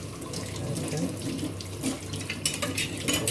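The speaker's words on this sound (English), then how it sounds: "So I do the washing." Tap water runs steadily into a sink to rinse a kitchen knife after sharpening, a continuous close splashing hiss with small shifts as the blade moves under the stream.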